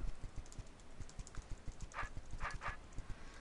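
Computer keyboard keys tapped repeatedly in a steady run of light clicks, a backspace key among them, with faint game sounds chiming in the background.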